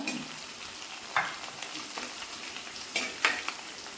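Green chillies are added to crushed ginger and garlic frying in a pan, giving a soft, steady sizzle with a few sharper spatters and stirring scrapes close by.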